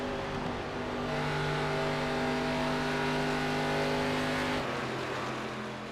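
ARCA series race cars roar past on the Kansas oval, a loud sustained engine drone holding steady with harmonic whine, then shifting pitch near the end as the pack moves by.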